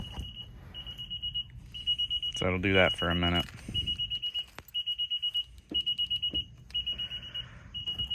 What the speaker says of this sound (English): Because when you disconnect this, it can set the alarm off.